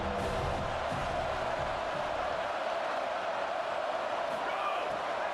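A home crowd in an NCAA college football video game cheers as the defense tries to get off the field on third down, a steady broad roar with a commentator talking over it.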